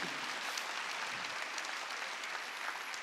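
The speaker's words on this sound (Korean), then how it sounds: "박수야." A church congregation at a Wednesday service claps steadily, the dense applause filling the whole clip with no break.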